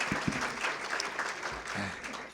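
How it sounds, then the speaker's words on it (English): An audience gives Congresswoman Maxine Waters a sustained round of applause, a thick, even roar of many hands clapping at steady volume, with a faint voice briefly audible beneath it. "Let's give her a great big round of applause."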